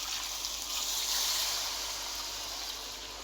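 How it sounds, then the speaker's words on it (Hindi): Water poured into a pan of spiced potato curry, a steady hissing splash and trickle that runs continuously at close range, swelling slightly mid-pour before tapering off. "अब इसके बाद मैं डाल दूँगी इसमें पानी"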